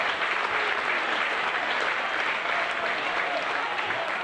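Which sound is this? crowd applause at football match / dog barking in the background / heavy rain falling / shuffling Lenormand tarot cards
crowd applause at football match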